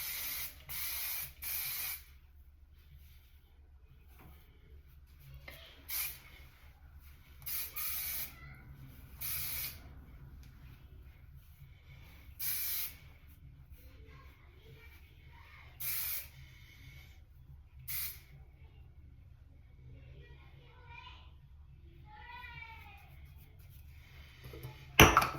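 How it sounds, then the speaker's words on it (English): Aussie Instant Freeze hairspray sprays in a series of short, crisp hissing bursts, some single and some in quick pairs, fairly close and spread across the stretch with quiet gaps between them. "we'll get my hairspray so we can set it"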